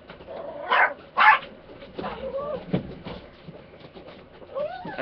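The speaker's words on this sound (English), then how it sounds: "my dogs are barking" Dogs bark in two loud bursts near the start while a phone conversation carries on around them, followed by softer yips or squeaky sounds under ongoing talk.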